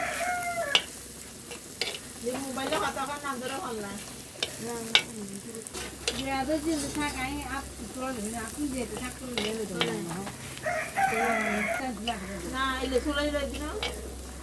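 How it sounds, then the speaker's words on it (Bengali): Onions fry in a pan for a prawn fry, a steady sizzle with frequent stirring clicks heard beneath background voices and fowl calls. "দেখেন আমার পেঁয়াজ ভাজিটা হয়ে আসছে।"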